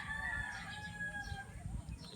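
Hens of several breeds with a rooster at a farm, a sustained crow ringing out close by over a steady bed of clucking and low farmyard noise.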